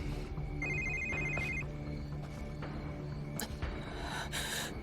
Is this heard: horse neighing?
no